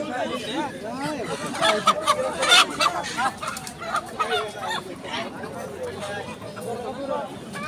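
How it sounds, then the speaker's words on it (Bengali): Busy hubbub at a poultry market in Bhuapur, Tangail, Bangladesh, with clucking chickens and a rooster's call mixed into constant chatter of nearby voices. "মোরগ আছে"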